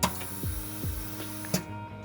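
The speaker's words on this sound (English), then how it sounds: "It's going to laminate for 15 seconds, vacuum for 20." A Forward RMB-3+ OCA laminator running a lamination cycle on a phone OLED screen, giving a steady mechanical hum with harmonic whine, repeated downward-sliding motor tones and a couple of sharp clicks.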